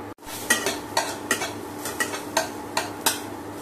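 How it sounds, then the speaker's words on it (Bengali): Cumin seeds hit hot oil in a heated wok, giving sharp crackling sizzle bursts in a quick series of close, loud spits over a low background, with no talking. "কড়াটা গরম হয়ে গেছে, আমি তেল দিয়ে দিচ্ছি, একটু জিরে দিয়ে দিচ্ছি"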